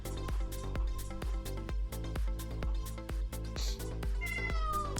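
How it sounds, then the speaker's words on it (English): A cat gives a short meow toward the end over a loud, steady rhythmic music beat that runs throughout. "Oh, that was the cat. Did you guys hear it?"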